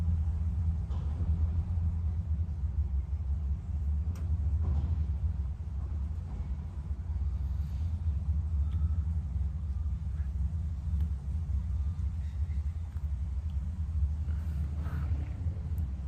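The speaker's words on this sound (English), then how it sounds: "The truck, the garbage truck just came" A garbage truck rumbles nearby outdoors, a deep, continuous low engine drone holding steady throughout with only faint scattered small sounds above it.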